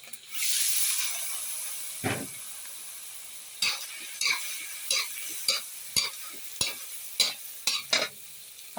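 Blanched cuttlefish squid stir-fried with salted egg in a hot pan, a burst of hissing sizzle followed by a series of quick, regular scraping spatula strokes and clinks, close and without talk.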